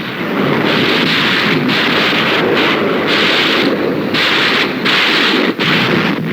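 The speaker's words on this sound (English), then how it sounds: "Ships of the UN fleet fire point blank at the island. Rockets join the softening up process." Naval guns and rockets of a fleet firing point blank at an island in Korean War combat footage, heard as a dense, continuous roar of booming blasts and rushing noise, loud and close, with rhythmic dips between volleys.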